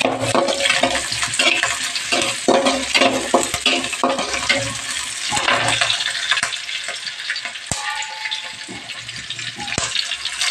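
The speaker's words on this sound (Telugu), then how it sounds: "కట్ చేసి పెట్టుకున్న ఆనియన్స్ వేసుకొని బాగా వేయించాలి." Chopped onions fry in a pan for chicken curry, sizzling loudly and continuously, with stirring scrapes and clatters close by, and no one talking.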